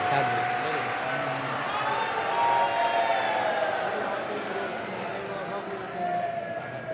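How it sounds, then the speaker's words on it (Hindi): A large audience at a Shiv Mahapuran katha claps loudly and steadily, a dense sustained roar of applause filling the hall with faint tonal sounds running underneath. "एक बार जोरदार ताली बजाइएगा।"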